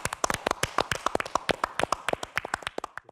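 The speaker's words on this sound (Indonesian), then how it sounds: "Oke, tepuk tangan." Small studio audience of a health talk show clapping at the host's cue, with distinct, fairly sparse hand claps in an uneven rhythm for about three seconds and no talking.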